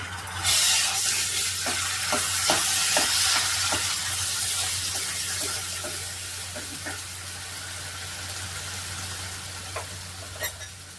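Ginger-garlic paste frying in a pan for chicken curry makes a bright, steady sizzle with a low hum beneath. A spoon taps and scrapes repeatedly up close, and no one speaks.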